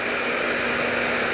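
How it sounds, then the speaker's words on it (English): Blow dryer running on its low speed and cool setting with the diffuser removed, a steady close whooshing hiss with a faint motor hum throughout, no speech. "you take the diffuser off of the blow dryer, put the speed on low and the temperature on cool."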